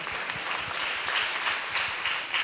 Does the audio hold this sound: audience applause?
yes